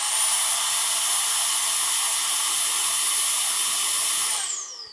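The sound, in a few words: Milwaukee M18 Precision Blower running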